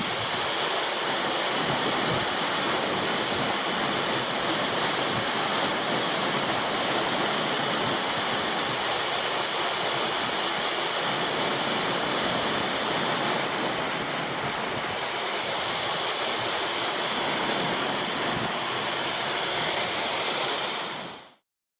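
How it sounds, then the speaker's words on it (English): Waterfall with a drop of about 15 metres on a bushwalking circuit, a steady, loud, broadband roar of falling water that continues unbroken and close by throughout. "it's a very nice waterfall, about a 15-metre drop"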